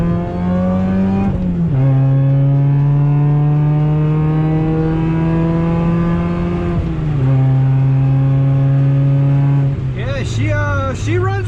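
Chevrolet Cobalt SS engine pulling hard through a second gear roll, a loud steady rising drone with a brief shift dip partway, close and continuous, ending with a gear change and fluttering whistle.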